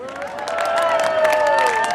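Concert crowd in Steenokkerzeel applauding and cheering for the band, a dense, steady wash of clapping and voices, loud and close, with tonal sounds riding over it.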